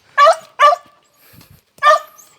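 A dog barks while digging at a hole in the ground: three sharp, close barks, two in quick succession and one after a pause, with a low grunt in between.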